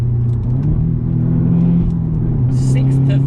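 A Toyota GT86 with a 2-litre four-cylinder engine and manual gearbox rumbles and revs loudly and close, its low drone dipping and climbing as it drops from sixth to third.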